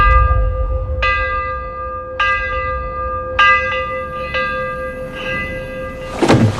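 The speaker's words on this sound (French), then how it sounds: "À minuit, une cloche résonne pour les accueillir" A church-style bell tolls at midnight, several clear ringing strikes a second or so apart with long sustained tones, followed by a short rustling noise at the end.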